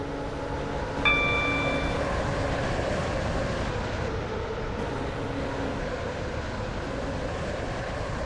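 A Class 508 electric train runs in the Roblox game Stepford County Railway, giving a continuous low rumble and hum of motion with a brief tonal chime-like sound early on, all steady and moderately quiet.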